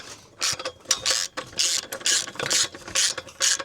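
A socket wrench with a 19 mm socket ratchets while tightening the hitch bolt on a bike hitch mount e-bike rack, giving loud, close bursts of rapid clicking in a steady back-and-forth rhythm.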